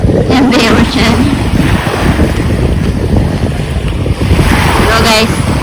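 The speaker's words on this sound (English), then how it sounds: "We're washing the plates in the ocean." Ocean surf washes steadily against the shore while plates are rinsed in seawater on Camiguin island, with wind buffeting the microphone and a faint voice in the background.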